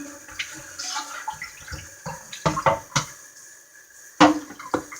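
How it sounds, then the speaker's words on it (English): Tap water runs briefly while a knife and utensils are rinsed during kitchen cleanup after cooking a Crock-Pot pork loin, with splashing and a few sharp clinks and knocks scattered through the stream. "This is just a rinse down"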